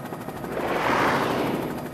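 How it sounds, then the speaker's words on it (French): Helicopter flying over open ocean, a steady broad rotor-and-turbine roar that swells toward the middle and stays close and loud throughout, with no voices. "L'hélicoptère est le meilleur moyen de repérer les baleines dans l'immensité océane."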